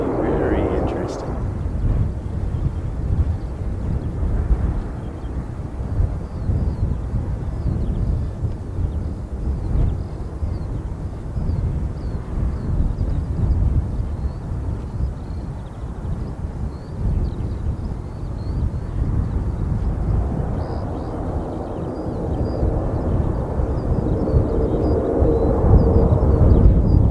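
An airplane lands, with a broad low engine rumble and wind roar lasting throughout, heard at a distance beneath people talking.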